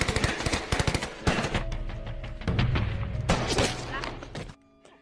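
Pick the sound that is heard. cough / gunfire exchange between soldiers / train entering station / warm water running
gunfire exchange between soldiers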